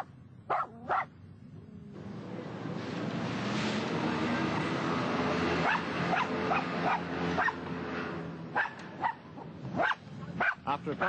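A taxi driver's dog barks inside a cab in Paris, loud sharp yips and barks in irregular bursts over steady traffic and engine noise, with a voice talking faintly at times.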